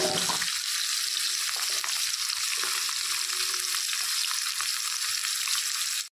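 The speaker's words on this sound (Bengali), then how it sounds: "তেলটা গরম হয়ে গেছে, তো মাছগুলো দিয়ে দিচ্ছি" Katla fish pieces fry in hot oil with a steady, dense sizzle that holds loud and even throughout, with a faint stir or clink now and then.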